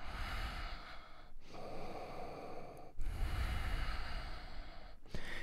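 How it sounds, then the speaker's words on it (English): Slow, full yogic breaths during a flowing yoga class, each long airy inhale and exhale close and clear, separated by brief pauses, with no talking. "Full breath in and out."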